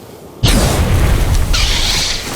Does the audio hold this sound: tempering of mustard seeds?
no